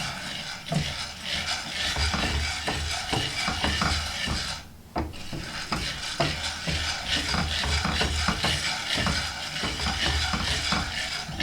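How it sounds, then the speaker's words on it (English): Coffee beans being roasted are stirred steadily with a spatula, making a continuous close rattle and scrape of hard beans against the pan, with a brief dip in the middle before the stirring resumes. "continuing that nice, even stir with your rainbow spatula"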